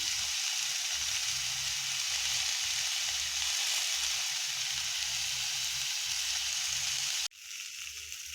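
Turmeric and salt masala sizzles steadily in a pan for potol chingri, a loud constant frying hiss that cuts off abruptly near the end, followed by a softer sizzle.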